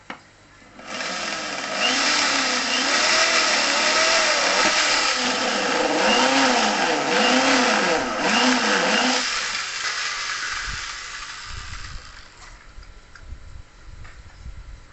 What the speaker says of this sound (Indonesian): lubangi dengan hole saw ukuran 22